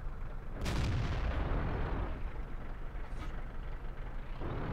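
A tank cannon in World of Tanks fires with a heavy, booming blast that rolls into a long, loud rumble, while engine and battlefield noise continue underneath without pause.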